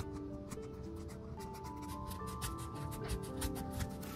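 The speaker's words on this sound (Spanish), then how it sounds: "le da la forma correcta a la suela al lijarla con una lija de grano 40" Steady, rhythmic scraping of 40-grit sandpaper shaping a shoe sole with a cork heel patch, close up and continuous, with repeated back-and-forth strokes.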